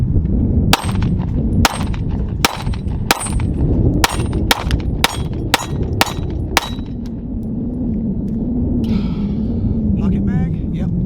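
Sig P365 pistol fired with a pinky-extension 10-round magazine: ten sharp, loud shots in a quick, slightly uneven string, followed by a brief clatter of handling and a quieter stretch at the end.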